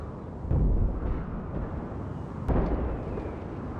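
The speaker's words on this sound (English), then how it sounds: "A lot of artillery dueling here." Deep booming artillery blasts in a Napoleon: Total War video game battle, two heavy thuds rolling out over a rumbling low background, sounding distant and muffled.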